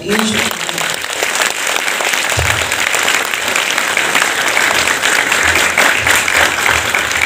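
An audience claps loudly and continuously at a felicitation ceremony in a coaching class hall, a dense wash of applause with a voice speaking over it.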